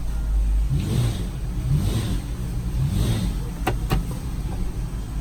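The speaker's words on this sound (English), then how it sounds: "So I'm gonna rev it up, see if it will jump." A 2014 Chrysler 3.6L engine with a worn engine mount idles close by and revs in three rising surges while in gear, with a couple of sharp clicks near the end.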